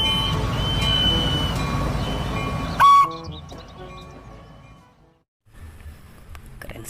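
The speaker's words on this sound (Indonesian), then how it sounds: "Wow, ini kereta api Thomas." A Thomas and Friends toy train rattles along with a running mechanical hum, then gives a short, loud, shrill whistle toot near the middle before the sound drops away to near silence and faint clatter returns.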